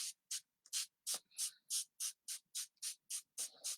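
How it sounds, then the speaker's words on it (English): Quick, steady pumps of a spray bottle misting water onto a chalk stencil, about a dozen short hissing bursts close up and quiet, with no talking. "So I'm just going to quick spray some water on it."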